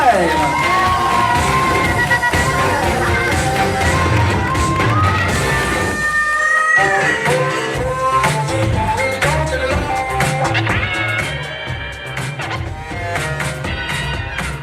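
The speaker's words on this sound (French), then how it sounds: "Chaleureusement l'applaudissement pour Madame Julie de la Boissière" A live audience at an improvisation tournament show in Dolbeau-Mistassini cheers and claps loudly, with shouts and whoops over a dense crowd roar that swells and then continues steadily.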